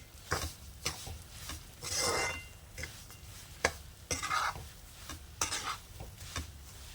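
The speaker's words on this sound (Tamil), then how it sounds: "இப்போ பாருங்கள், இந்த திராட்சைலாம் நல்லா பொரிஞ்சு வருது பாருங்கள்." Rava and raisins frying in ghee and oil in a pan for rava kesari, stirred with a spoon: repeated scraping strokes and clinks over a soft, steady sizzle, close by, with no talking.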